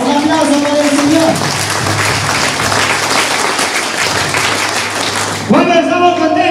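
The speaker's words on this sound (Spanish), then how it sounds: "¡Un aplauso para el Señor!" Loud, sustained applause from a congregation praising the Lord during a church service, a dense wash of clapping that fills several seconds, with raised voices or singing at the start and returning at the end.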